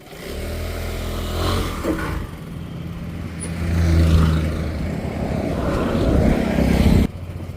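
A Yamaha Aerox 155 scooter engine on a test ride, a steady close droning hum that rises and swells as the throttle opens, continuous and fairly loud with no talk, then cutting off abruptly near the end.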